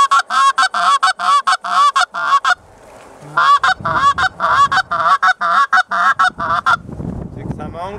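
A handheld bird call imitates a goose, giving repeated loud, close honking double clucks in quick rhythmic bursts, with a brief pause and some low rustling between series.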